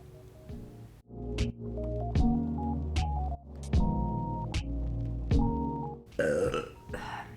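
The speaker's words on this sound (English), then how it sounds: "There's one of the lovely side effects of this surgery is you're burping all the time." Repeated burping after gastric sleeve surgery, about six loud, drawn-out belches close to the mic with short pauses between them, then a rustling at the end.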